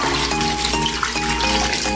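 Water pours steadily into a pot for chicken feet soup with dumplings, a loud, continuous gushing splash with no pauses.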